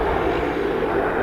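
A British Airways Airbus A380 on landing approach at Vancouver airport makes a loud, steady, broadband jet roar that fills the whole short stretch without any break.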